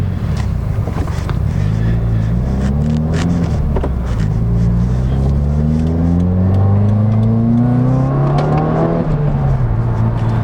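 A Subaru WRX accelerates hard on the road, its engine note climbing steadily through the gears with brief dips at each shift, loud and close under a constant rush of road and wind noise.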